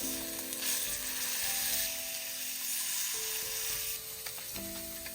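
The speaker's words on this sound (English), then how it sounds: "You can see that sear is starting to develop." Dry-aged Australian A5 Wagyu ribeye sears in a hot pan, giving a steady, close, loud sizzle with crackling spatter throughout and no talking.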